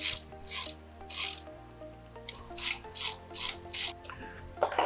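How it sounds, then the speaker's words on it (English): Bolts on a bush tool being tightened with a 6mm Allen key and 13mm spanner: close, bright ratcheting clicks in repeated strokes, about eight bursts with short pauses, under a faint steady hum, no talking. "6mm Allen key and a 13mm spanner. Tighten up until the two gaps of the two plates are joined together."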